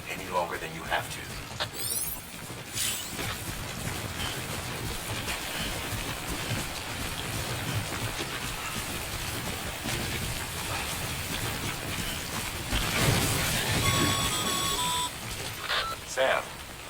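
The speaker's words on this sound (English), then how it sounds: "Don't stay out in the rain any longer than you have to." Timefall rain falls in Death Stranding as a steady, dense patter, with brief electronic beeps and tones over the downpour and a louder swell near the end.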